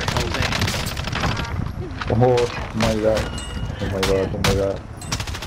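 Automatic gunfire in the video game Call of Duty: Modern Warfare, bursts crackling in quick runs beneath excited players' voices talking over the action.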